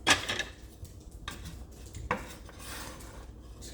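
Bread pieces are stirred in a pan with a utensil, giving repeated scraping and rattling strokes with metallic clinks and a faint sizzle underneath, close and moderately loud.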